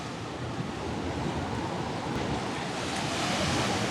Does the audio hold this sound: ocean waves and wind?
yes